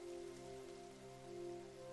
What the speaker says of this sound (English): You watch as the rain peppers the surface of the pond around you.